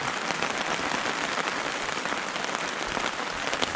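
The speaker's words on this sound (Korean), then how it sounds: "지금 아직도 비가 내리고 있거든요." Rain drums steadily on the fabric of a Hilleberg solo tent during a heavy downpour on a backpacking trip, giving a dense, even patter heard from inside the tent with no voices.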